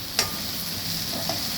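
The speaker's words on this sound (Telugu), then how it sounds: "ఉల్లిపాయలు, బంగాళదుంపలు వేయించుతున్నాము." Onions and potatoes fry in a pan with a steady, close sizzle, broken by a couple of sharp scraping stirs from a spatula.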